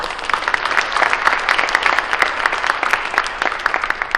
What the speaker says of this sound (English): please give Shaka and the other Gazette staff a round of applause